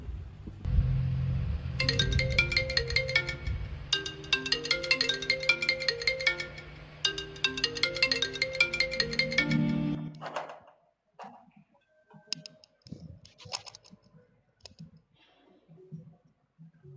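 A phone ringtone plays a bright, repeating electronic melody in loud bursts for about ten seconds, then stops, leaving faint scattered clicks and movement noises.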